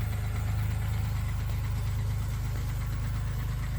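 A 1992 Ford Taurus engine idles with a steady low rumble and a fast, even ticking clatter from the valvetrain, constant and close throughout with no talking.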